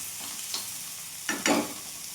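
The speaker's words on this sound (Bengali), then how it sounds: "ডিমটা দিয়ে এইভাবে অনবরত নেড়ে যেতে হবে। যে দেখতে পাচ্ছ ভাজা ভাজা হয়ে গেছে।" Egg and pointed gourd frying in a pan, a low background sizzle broken by a few quick stirring scrapes, the loudest near the end.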